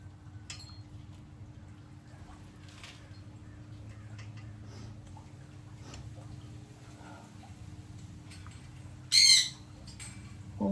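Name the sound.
birds squawking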